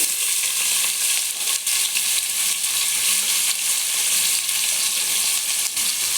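Sliced onions and bay leaves fry in oil for plain biryani, a steady, loud, close sizzle that holds evenly throughout with no talking.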